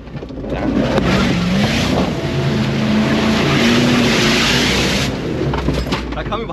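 A Jeep Grand Cherokee ZJ V8 revs off-road, its loud engine droning steadily for several seconds with a rising and falling pitch, close by, under a continuous rushing background.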